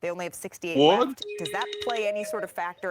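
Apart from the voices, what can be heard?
mobile phone notification sound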